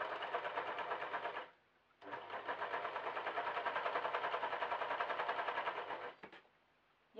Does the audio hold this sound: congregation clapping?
no